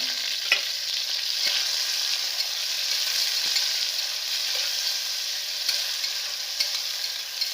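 Green chillies, two onions and a tomato with chilli powder fry in a pan, producing a continuous bright hiss of sizzling oil with occasional small pops, close and steady, with no voices.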